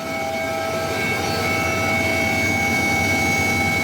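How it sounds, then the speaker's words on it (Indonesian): A search helicopter flies over a fire area, its engine a loud, steady, close droning whine that holds even throughout with no pauses. "Tim gabungan menerbangkan 1 unit helikopter untuk melakukan pengamatan dari udara"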